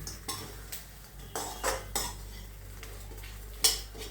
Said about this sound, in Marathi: हे बघा हे असं संपूर्ण परतून घ्यायचं असं